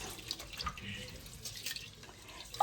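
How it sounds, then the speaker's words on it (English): Running tap water splashing into a bowl as perfumed rice is rinsed and washed, a steady close trickle with light sloshing and a few drips, no voices. "Then I'm going to add in water and wash the rice."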